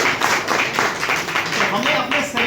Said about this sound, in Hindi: तालियां होनी चाहिए ऐसे।